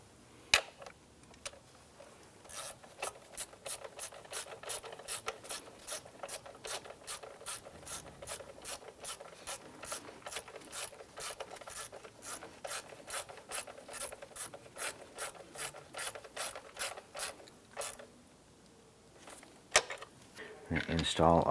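A ratchet snugs down valve cover bolts on a 2001-2005 Honda Civic with a long, even run of quick clicks. The clicking is close and moderately loud, then stops near the end, followed by a brief clunk.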